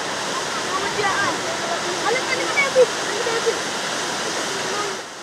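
The Suguta River flows strongly at Kapedo with a dense, steady rushing roar. The roar holds at an even level, with a few faint splashes on top.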